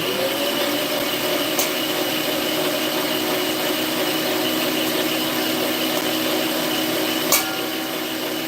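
A kitchen meat grinder runs steadily as it grinds meat, a constant close mechanical drone with two brief sharp knocks, and no one speaks.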